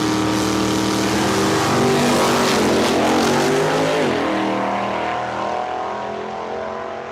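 An Oldsmobile drag car makes a breakout run at Cordova Dragway in a Quarter-Max points race, its engine a loud sustained roar whose pitch climbs through the gears and then fades as the car pulls away.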